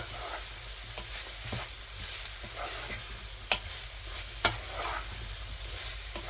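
A spiced beef cassoulet base stirred in a pot over a low, steady sizzle, with continuous spoon scraping and two sharp knocks against the pot midway; no voices.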